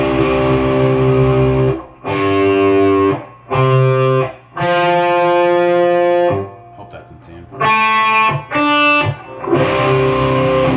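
Heavily distorted electric guitar in drop C tuning chugs on its low string, playing a series of loud sustained notes and short bursts separated by brief gaps, alone without talk.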